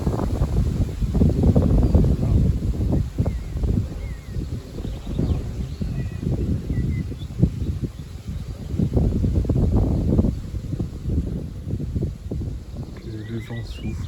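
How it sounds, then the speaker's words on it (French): Strong evening wind rises suddenly outdoors, buffeting the microphone in long, rough gusts that swell and ease, with a voice talking at times underneath. "que le vent souffle"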